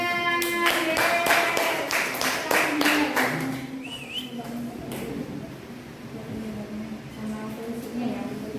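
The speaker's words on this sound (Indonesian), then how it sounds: "Ya, tepuk tangan." A classroom of students claps briefly in response to a group introduction, a few seconds of close, rhythmic hand claps that quickly thin out into scattered taps and murmured voices.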